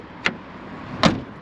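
Two solid thumps of a Citroën C4 Grand Picasso door shutting, the second heavier, a short pause between them in a quiet setting.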